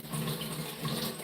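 Water pours steadily from a tap, rinsing a Miele vacuum cleaner filter, a continuous close splashing gush with no break.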